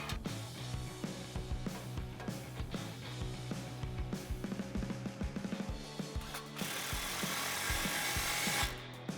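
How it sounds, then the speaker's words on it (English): Clamp on the exhaust of a 2011-2014 Ford F150 5.0L V8 being tightened, fairly faint rapid ratcheting clicks and metallic taps in quick succession, with a burst of louder hiss and rattling near the end. "let's tighten the clamp down that connects it to the muffler"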